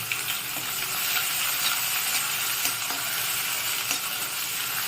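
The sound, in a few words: onions sizzling while stirred in pan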